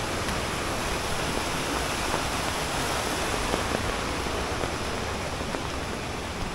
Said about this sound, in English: I can hear waterfall now from this spot.